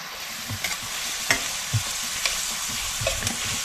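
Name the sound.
onions frying in a pan for fish curry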